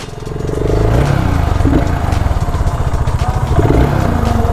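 A 650cc motorcycle engine runs steadily up close with a throbbing, rhythmic pulse and vibration, its fuel-injected throttle lagging slightly, with no talk over it.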